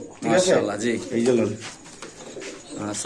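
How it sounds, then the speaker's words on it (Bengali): Racer pigeons at a market coo in soft, rolling bursts close by, mixed with surrounding market chatter. "চমৎকার কোয়ালিটির একজোড়া কবুতর আছে"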